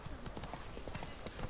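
Roach the horse trotting in The Witcher 3, an even series of hoof clip-clops at moderate distance, rhythmic and slightly uneven, with a voice talking over part of it.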